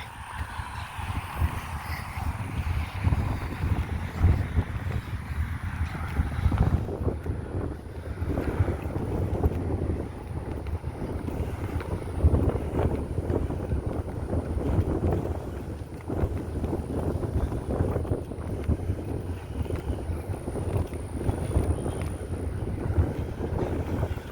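Strong outdoor wind roars and buffets the microphone without a break, a loud, rumbling, gusty rush that lasts throughout with no voices.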